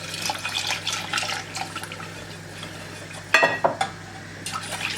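Milk poured into a pan of chicken stock while making a sauce for bread patties, a short liquid splash and gurgle after a quiet stretch of faint kitchen noise, with no one talking.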